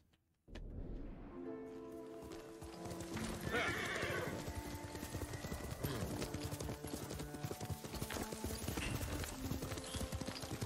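Horse hooves clip-clopping at a gallop in the video game Ghost of Tsushima, a steady rhythmic pounding near and fairly loud with game music and ambience behind, running almost the whole clip.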